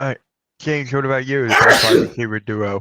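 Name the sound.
sneeze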